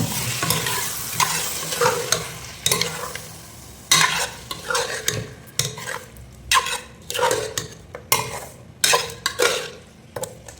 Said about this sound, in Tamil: ஸோ அப்படியே ஜிஞ்சர் garlic பேஸ்ட் போட்டுக்கிறேன்